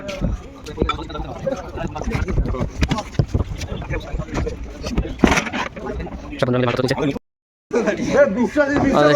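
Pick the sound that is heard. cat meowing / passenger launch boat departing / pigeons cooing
passenger launch boat departing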